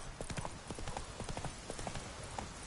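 Roach, a horse in The Witcher 3, trotting with a steady, rhythmic clip-clop of hooves, moderately close and fairly quiet, with faint ambient game sound and no talk.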